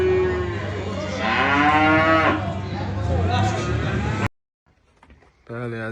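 Newly arrived calves at the Beylagan cattle market moo loudly and close, a long drawn-out bellow followed by a short pause and another moo starting.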